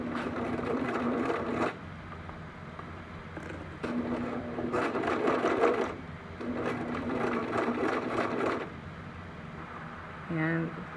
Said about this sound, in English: Make sure you put your presser foot back down again before you start sewing.